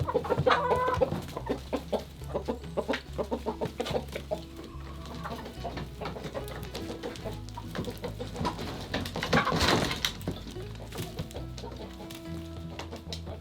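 Chickens in a homestead flock cluck and murmur steadily outdoors, with many overlapping soft calls from several birds nearby and a brief louder squawk partway through.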